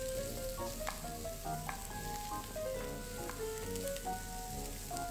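White onion sizzles steadily in hot oil in a pan while making tofu and pork humba, with a continuous close frying hiss and occasional light clinks of a utensil.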